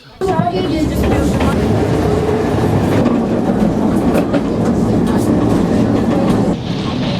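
A tram runs on its rails: a loud, steady rumble with rhythmic wheel clatter and a faint squeal, heard close and continuous throughout, with a voice partly audible underneath.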